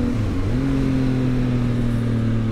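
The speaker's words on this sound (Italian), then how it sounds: "Mentre la scalata normale solo di frizione senza utilizzare l'acceleratore sarebbe questa." A motorcycle engine drops in pitch during a clutch-only downshift with no throttle blip, then settles into a steady, loud drone at close range.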